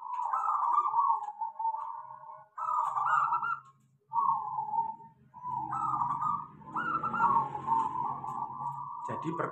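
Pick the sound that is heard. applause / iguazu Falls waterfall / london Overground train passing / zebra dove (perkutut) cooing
zebra dove (perkutut) cooing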